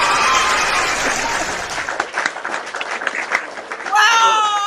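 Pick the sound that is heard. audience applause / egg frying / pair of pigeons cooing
audience applause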